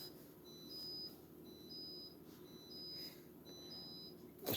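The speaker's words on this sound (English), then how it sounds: "The refrigerator is beeping because the door was open." Refrigerator left with its door open, beeping in a faint repeating pattern of short paired electronic tones about once a second over quiet room hum.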